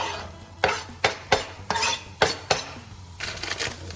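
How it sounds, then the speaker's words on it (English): Onions being stirred in olive oil in a pan, a series of distinct scraping clacks of a utensil against the pan, roughly regular and close, with a soft sizzle underneath and no talking. "Give that a little stirring mix there."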